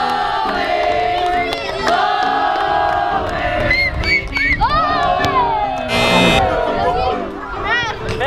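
At an outdoor football challenge tournament, a crowd of children shouts and cheers loudly and continuously, with excited yelps rising over steady chatter.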